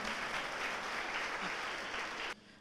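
A church congregation applauds during a Spanish-language sermon, dense steady clapping filling the room for a couple of seconds before cutting off abruptly into near silence.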